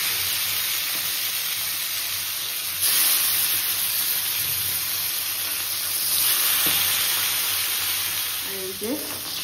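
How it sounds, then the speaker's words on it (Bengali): Fish frying in hot oil in a kadai (wok), a loud continuous close sizzle that swells as pieces go in, with brief clatter near the end. "এই তেল গরম হয়ে গেছে, এবার মাছগুলোকে ভেজে নেব।"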